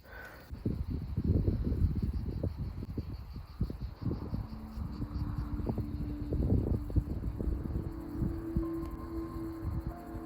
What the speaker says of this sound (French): C'est tellement agréable, le vent frais sur le visage